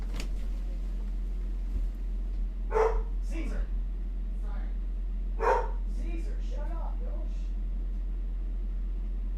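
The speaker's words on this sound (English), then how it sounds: "The motherfucking dog's going crazy." A dog barks in a few short bursts close by, with several sharp yelps spaced across the stretch over a steady low hum and room noise, while people talk indoors.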